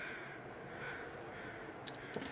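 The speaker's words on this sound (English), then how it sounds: "Follow the crow noise." A crow caws in the survival game The Long Dark, a couple of short, faint harsh calls near the end over a steady windy wilderness ambience.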